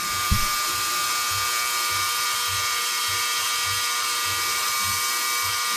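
A rotary tool fitted with steel wool whirs steadily at close range while cleaning a motorcycle clutch lever on a CB750 cafe racer build, with a faint low pulsing hum beneath the continuous buzz.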